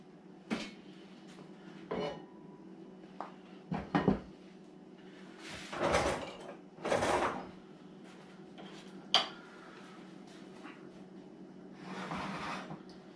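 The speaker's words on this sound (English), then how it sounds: "Put the lid on." Lid set onto a cooking pot of chili colorado in a home kitchen: a few scattered metallic clanks and knocks, a couple of longer scraping clatters, separated by quiet gaps.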